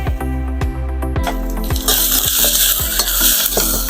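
Bolognese meat sauce browns in a hot pan with a loud, dense sizzle while a utensil stirs and scrapes in rhythmic strokes, and a low hum runs beneath.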